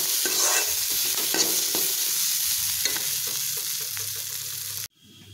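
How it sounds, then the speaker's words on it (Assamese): Chickpeas frying in a pan give off a loud close sizzle with intermittent scraping stirs, gradually settling quieter before cutting off abruptly near the end. "এতিয়া বুটখিনি ভাজি লওঁ"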